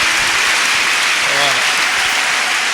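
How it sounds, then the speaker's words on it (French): Church congregation applauding during a worship service, a steady, dense wash of clapping that fills the whole stretch at high level, with a brief voice rising faintly in the middle. "acclamons Jésus"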